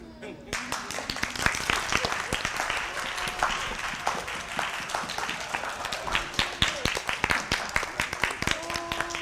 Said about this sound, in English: I just want to apologize to those at home that's hearing this clapping, this excessive clapping